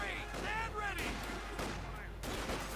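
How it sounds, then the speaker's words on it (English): In a Company of Heroes 2 1v1 multiplayer match, a grenade explodes amid bursts of battlefield gunfire, all running continuously beneath a commentator's excited talk. "Quick grenade there."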